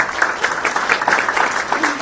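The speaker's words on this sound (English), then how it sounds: "and a round of applause for our panel." An audience applauds a parents' panel at a School Games 2024 event, giving a steady, dense round of clapping that carries evenly through the moment without any speech over it.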